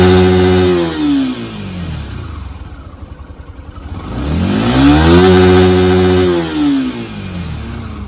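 A Yamaha Exciter GP 155 VVA motorcycle engine revs up loudly and close twice. Each rev rises and falls in a smooth sweep over a steady idle, and there is no talking.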